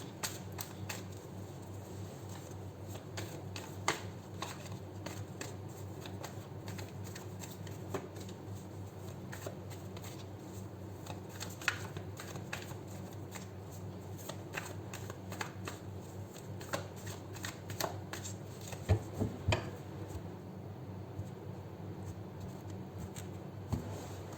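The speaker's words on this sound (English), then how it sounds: "We'll take out your cards from the original Rider-Waite." A Rider-Waite tarot deck is shuffled by hand in long, continuous bursts of soft riffling and card slaps over about twenty seconds, fairly quiet against a low background hum.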